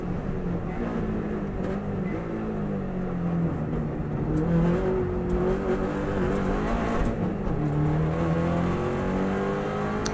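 A 2018 Subaru Impreza engine heard from the driver's seat, easing off and dropping down into second gear after running wide near Ramsey, a steady loud drone whose pitch swells and sinks as the revs fall and rise again.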